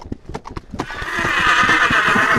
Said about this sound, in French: Son cheval, devenu soudainement nerveux, piétine, se cabre, refuse d'avancer.